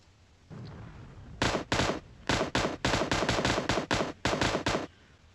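An M249 light machine gun firing in PUBG Mobile, a series of short sharp automatic bursts in a steady stop-start rhythm, close and clear with no talking.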